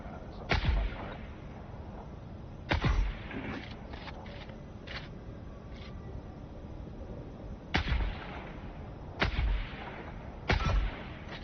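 Enemy gunfire in the video game Dune: Awakening: five sharp, loud shots or bursts at irregular intervals over a steady low background rumble, with fainter pops between them.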